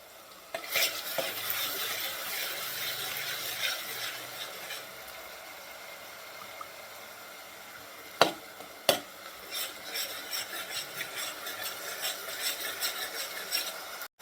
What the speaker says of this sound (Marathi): कांद्याची प्युरी आपल्याला चांगली भाजून घ्यायची तेलात।